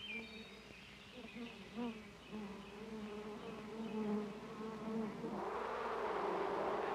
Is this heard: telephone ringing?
no